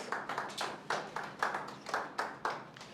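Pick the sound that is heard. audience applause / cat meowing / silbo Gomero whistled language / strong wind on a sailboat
audience applause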